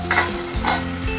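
Spice masala tipped into hot oil for kadhi sizzles and crackles loudly in a pan, with two brief stirring scrapes and a steady frying hiss throughout.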